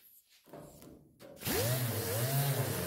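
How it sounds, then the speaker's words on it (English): An 8-inch orbital sander fitted with 36-grit paper spins up on car body metal, rising in pitch from a whirr into a loud, close, rough grinding buzz after a short quiet start. "And this is a 36 grit on an 8-inch orbital."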